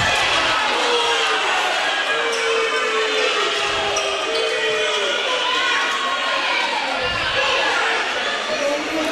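A loud gym crowd at a basketball game roars and shouts in reaction to a possible travel, a dense wash of cheering and chatter with a basketball bouncing underneath.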